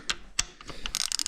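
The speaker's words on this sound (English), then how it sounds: "You're just in a POV of a ratchet." A ratchet clicks in short bursts while tightening a bolt during a Toyota 2JZ engine install in a car, the close, quick clicks speeding into a dense run at the end.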